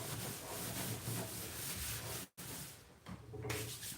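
A cloth rubbing black marks off a track surface with WD-40, steady close scrubbing strokes with a brief gap midway, then a few more quieter rubs.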